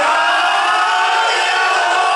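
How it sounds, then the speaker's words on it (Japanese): A crowd at the Hirosaki Neputa festival, staged at the Furusato Matsuri Tokyo arena, chants the festival call in unison, a loud sustained massed shout filling the whole moment. "最後までもう一度皆さんと一緒にやーやーどーやーなーとお願いします。"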